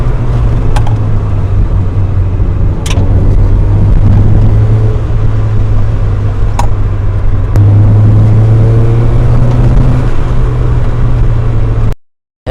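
A 2003 Mazda MX-5 NB with a 1.8-litre DOHC four-cylinder drones steadily while cruising in fifth gear at low revs, a loud constant engine hum with road noise before cutting off abruptly.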